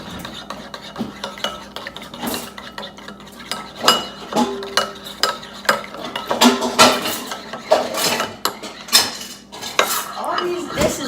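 Dishes, glass cookware and cutlery clatter in a home kitchen while fried Flamin' Hot Cheetos chicken wings are prepared, with repeated irregular clinks and scrapes, loud and close, and no voices.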